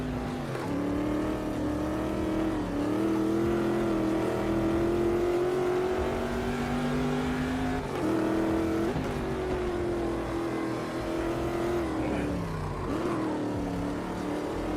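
A race car in a sim racing game howls at high revs, its engine tone climbing and dropping through repeated shifts and braking zones, loud and continuous with no talk over it.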